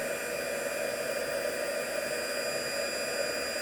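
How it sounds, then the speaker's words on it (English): A heat gun blows a steady, even whooshing hum while heating embossing powder on a handmade shaker card, continuous and close with no talking. "I've got my heat gun. I'm just going to heat that up."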